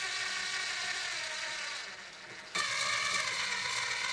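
Tuning pegs on an Epiphone FT130 acoustic guitar being turned, a soft continuous ratcheting whir with a brief pause midway before resuming, close and quiet with no talk.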